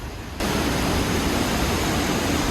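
A waterfall in a Scottish forest makes a dense, steady rushing roar that starts quieter and then jumps to full loudness, continuing unbroken and close by.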